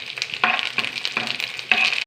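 Curry leaves and drumsticks sizzle in a frying pan, with a close, steady hiss that rises into four or five bursts of crackling as the pan is stirred.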